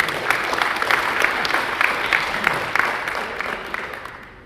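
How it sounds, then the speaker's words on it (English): A room full of people clapping, an even patter of applause that gradually fades toward the end. "give it a round of applause"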